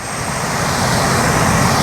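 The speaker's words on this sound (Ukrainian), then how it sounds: "З таких моїх спостережень 770-й лексіон працює тихіше." A Claas Lexion 770 combine harvester harvesting rapeseed in the field gives a steady, loud broadband engine and threshing roar that holds even throughout, with no voices.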